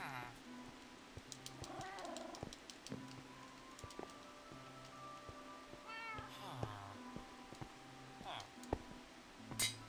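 Several cats in Minecraft meow repeatedly in short tonal calls, with game clicks and a steady background hum, and no speech heard.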